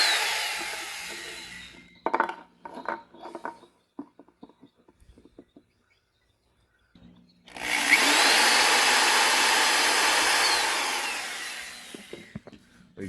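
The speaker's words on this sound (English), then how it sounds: "We're drilling in the center where we'll put some screws" A power drill bores into the center of a plastic hose base for a DIY lighted outdoor Christmas tree, first in short start-stop bursts and then in one sustained loud whirring run of several seconds, nearby and without speech.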